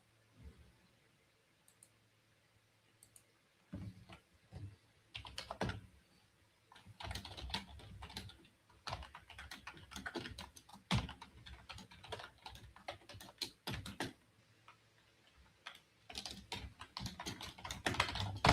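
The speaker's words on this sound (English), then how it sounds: "Sorry, I was typing." Keys on a computer keyboard clatter in irregular bursts of close typing, sparse at first and then dense, rapid and fairly loud, with no talk over them.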